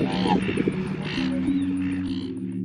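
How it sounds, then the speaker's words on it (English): Australian black swans call to each other in pairs, a few honking, bugle-like notes close by over a background hum of birds and water, with no talk. "Pairs will communicate by calling to each other in order to greet, locate, and recognize their partner."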